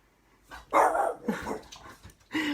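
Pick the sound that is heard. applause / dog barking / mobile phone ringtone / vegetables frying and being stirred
dog barking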